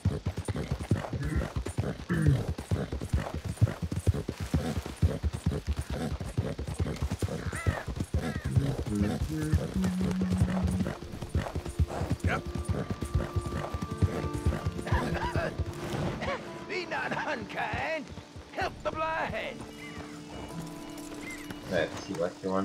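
In the video game Red Dead Redemption 2, a horse's hooves clip-clop steadily at a gallop, with occasional neighs and whinnies, all under continuous spoken commentary.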